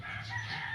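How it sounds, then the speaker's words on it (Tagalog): A hen clucks softly among her chicks in a brief, faint farmyard moment. "nanay ng sisiw."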